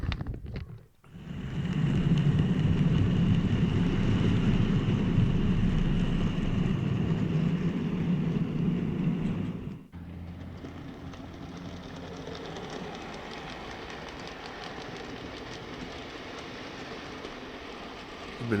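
OO gauge GWR model train rolling from a bay platform into a goods yard, a steady whirring motor hum and wheel rumble heard close up, then a quieter, thinner running sound after a brief dropout.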